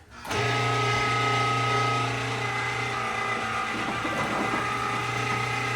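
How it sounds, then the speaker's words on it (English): An electric meat grinder churns meat and fat for spicy pizza sausage with jalapeno and pepperoni, a loud steady motor hum with a strong low drone that starts abruptly and runs continuously, with some uneven grinding texture partway through. "at this time we're going to grind our meat and fat"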